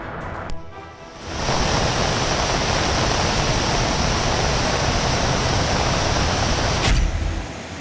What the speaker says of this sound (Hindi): बारिश का पानी इस तरह से रौद्र रूप दिखाता हुआ जमीन पर आ रहा है।